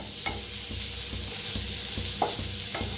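Onion frying in mustard oil in a pan for an egg dish, with a steady sizzle and rhythmic spoon scrapes and taps every half second or so, close and clear.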